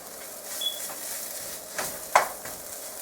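A spoon stirs curried beef stew with cayenne pepper and vegetables in a pot, a soft scraping swirl over a faint steady simmer, with a couple of brief louder clinks against the pot near the end.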